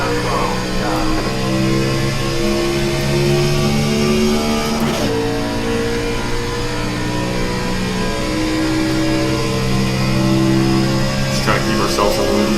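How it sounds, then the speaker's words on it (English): Race car engine in the iRacing video game, a NASCAR Xfinity car at Atlanta Motor Speedway, starting up and revving loudly with shifting pitch; a voice talks over it. "fire the engine up here"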